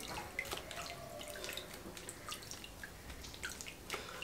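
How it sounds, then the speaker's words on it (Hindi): Homemade butter is moved into a bowl of cold water, giving soft repeated drips and small splashes at close range, with no talking. "ठंडे पानी में डाल देंगे इस तरीके से, तमाम निकाल के ठंडे पानी में शिफ्ट कर देंगे"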